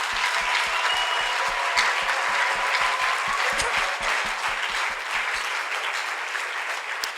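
A church congregation claps for the Lord in steady, loud, sustained applause that fills the room, with distinct rhythmic hand claps running through it before it thins out near the end.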